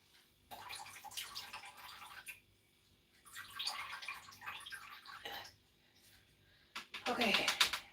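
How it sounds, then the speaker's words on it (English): Running water splashes as food is rinsed under a kitchen tap, in bursts separated by short pauses, with a person talking over parts of it. "I'm going to rinse it anyways"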